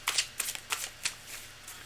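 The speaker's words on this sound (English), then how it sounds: "I got to keep shuffling" A deck of tarot or oracle cards is shuffled for a reading, giving a quick run of crisp riffling bursts close to the mic with no talking.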